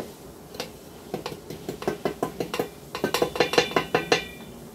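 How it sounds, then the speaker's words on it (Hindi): A spoon stirs freshly ground garam masala in a bowl, giving a steady rhythm of close, bright clinks and scrapes that grow quicker and louder toward the end. "अब मैं इसे एक बॉल में मिक्स कर देती हूँ ताकि सारी चीज़ एक साथ हो जाए"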